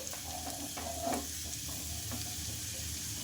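Ginger pieces, cumin seeds and mustard seeds fry in hot ghee with a soft, continuous sizzle, quiet and close, with a few faint stirring knocks along the way.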